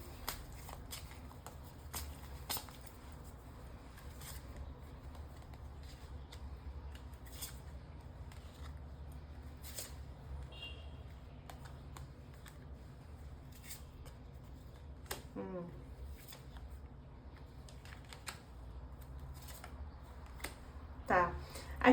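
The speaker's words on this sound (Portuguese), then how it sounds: "Eu vou tirar o baralho cigano para ver o que ele acrescenta nessa tiragem." A deck of Lenormand cards being shuffled during a tarot reading: soft, quiet riffles and slides that come in scattered bursts, with someone talking in Portuguese over them.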